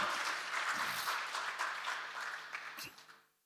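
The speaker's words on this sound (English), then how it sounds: "can we have a round of applause for a remarkable final?" Dense audience applause at a corporate quiz final, loud and continuous, gradually thinning and fading out after about three seconds.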